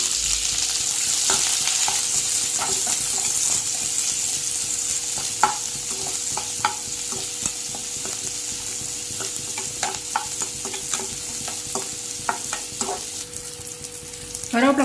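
Small onions, fennel seeds and cumin sizzle in hot oil for a mutton curry, a steady close frying hiss broken by frequent spoon scrapes and clicks against the pan, with no voices.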